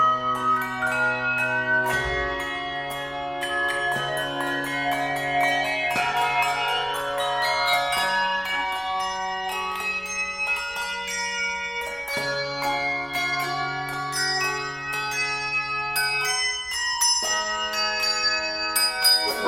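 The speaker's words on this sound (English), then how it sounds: "You sort of hear this duet happening between the chimes and the bells" Handbell choir chimes and bells trading melodic lines in a duet, bright sustained ringing tones layered over steady low notes, full and continuous throughout with no talking.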